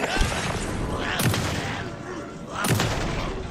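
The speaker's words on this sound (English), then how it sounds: "Right. Shotgun." Two loud shotgun blasts go off about one and a half seconds apart in the survival-horror video game Alan Wake 2, each a sharp boom with a ringing tail over a constant game soundscape.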